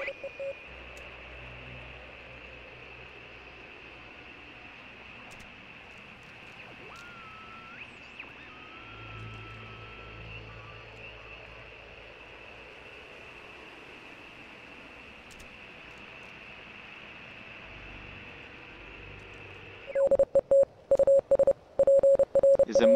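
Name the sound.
radio static while tuning a dial in the video game Oxenfree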